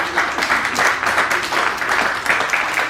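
Applause from a small group in a workshop, honoring a student, a continuous moderately loud patter of clapping hands lasting a few seconds with no pause.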